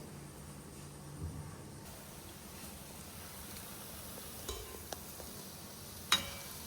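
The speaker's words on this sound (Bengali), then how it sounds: "রাস্তাতে কেউ গেলে বুঝতে পারবে যে এই বাড়িতে বড়া ভাজা হচ্ছে" Palm fruit fritters (taler bora) fry in oil at home, making a faint, steady sizzle with a few soft utensil clinks near the end.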